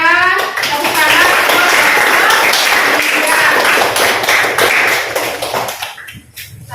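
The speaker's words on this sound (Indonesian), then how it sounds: "kita berikan tepuk tangan" A classroom full of students bursts into sustained, dense applause, then tapers off near the end with scattered claps and a few voices.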